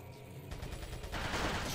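Short flurry of gunshots in Resident Evil 4, a quick run of sharp reports growing louder toward the end, with no talk over them.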